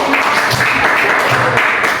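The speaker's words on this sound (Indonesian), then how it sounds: "tepuk tangan dulu" A classroom of students claps together during a mathematics lesson, a loud, close, continuous burst of hand clapping with a few voices mixed in.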